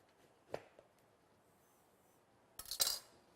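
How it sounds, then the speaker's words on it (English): A knife slices through a cooked spaghetti squash: a soft tap, then a short crisp cut near the end, close and fairly quiet in an otherwise still kitchen. "Slice it right down the middle"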